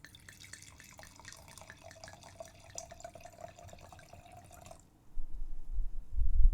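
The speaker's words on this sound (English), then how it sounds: "let me just pour the wine anyways" Wine being poured into a glass at home, a steady close liquid trickle with bubbly glugging for about five seconds before it stops and low handling noise follows.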